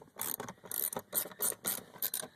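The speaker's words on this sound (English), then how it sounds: "This actually lifts up using a 10 millimeter socket." A ratchet with a 10 mm socket turns the nuts on a BMW X5 fuel pump cover under the rear seat, a quiet series of rapid clicking bursts in short uneven strokes.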